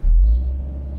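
A Fiat 124 Spider convertible on a winter drive gives a deep, steady engine rumble from close by, heavy at first and then settling slightly lower, with no talk over it.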